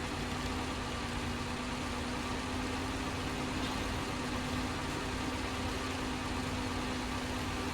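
A Kikimo truck engine in the SnowRunner video game runs under strain with a loud, steady low rumble. It drones on evenly without pause, and no voices are heard.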